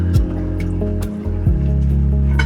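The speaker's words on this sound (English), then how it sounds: "Time to add the wet ingredient into the dry ingredient." Wet ingredients are poured into a bowl of dry mix for a tropical pineapple and mango upside-down pudding, giving close, steady wet squishing and dripping sounds with a few soft splashes and no talking.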